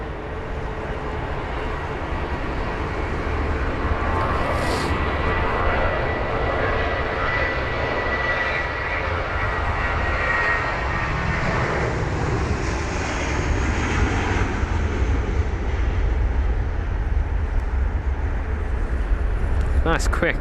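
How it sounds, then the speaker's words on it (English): A smaller jet aircraft departs London Heathrow on a wet runway, its engines a loud, continuous roar that holds steady for the whole stretch, with spray hiss in the upper range and a faint higher whine toward the end. "Nice quick rotation for this one as well. Bit of a smaller aircraft"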